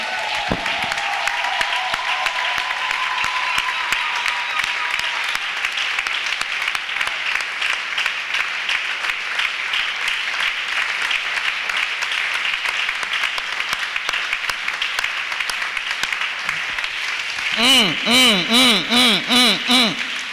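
Church congregation applauding in praise, steady sustained clapping filling the room for a long stretch alone, ending with a loud burst of rhythmic pulsing music or chanting near the close.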